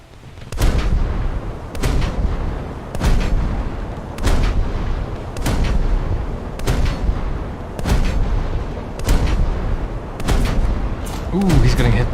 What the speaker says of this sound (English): he's getting hit by SKR rockets